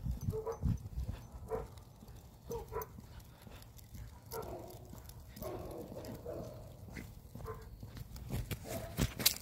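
A dog barks on an outdoor neighborhood walk, faint and somewhat distant, with scattered short barks over a soft background of footsteps and movement.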